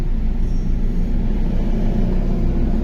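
A car engine idling steadily after an ABS fuse repair, a loud, even low rumble throughout, close by and with no talking.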